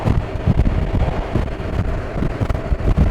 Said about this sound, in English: it's a seriously windy day